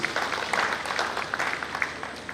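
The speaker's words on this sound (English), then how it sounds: "can we just give him another round of applause, please?" An audience at a Lagos builders conference applauding a speaker, a short burst of moderately loud, dense clapping from a hall crowd that stays steady for a couple of seconds.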